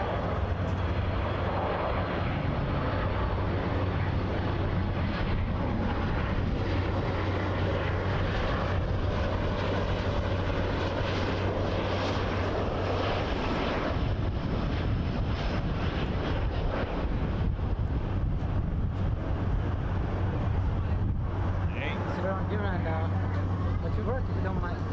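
A Swoop airliner arriving on runway 24L at Toronto Pearson gives a broad, steady engine roar with wind buffeting the microphone, while people talk nearby throughout.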